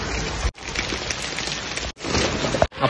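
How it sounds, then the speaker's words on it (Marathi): Heavy rain pours steadily in a dense, loud hiss, broken by a couple of brief pauses, with no voices. "बघू शकता पाऊस किती जोरात पडतोय"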